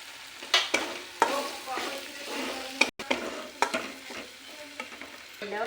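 Grated coconut roasting in a pan for a rohu fish fry, with steady sizzling and repeated scraping stirs of a spatula against the pan, close and continuous.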